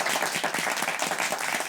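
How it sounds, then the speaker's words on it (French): A studio audience claps together in a short, even burst of applause, close and fairly loud throughout with no talking over it. "allez-y, applaudissez."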